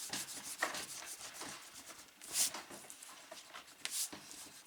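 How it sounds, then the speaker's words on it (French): Pencil marks being erased from paper with an eraser while binding pages, a soft continuous scrubbing with a few brief rough bursts, close and quiet, no talking. "je vais gommer parce que je m'étais fait des marques pour calculer les espaces"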